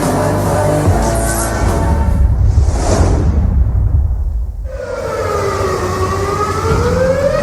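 A wailing siren sounds during a flood, with a rising and falling tone over rushing, noisy background, loud and close throughout.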